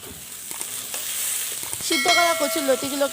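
Boiled taro stolons hit a kadai with a little salt over a low flame, a soft sizzle with light scraping stirs that swell into louder, crackling frying and metallic clinks near the end.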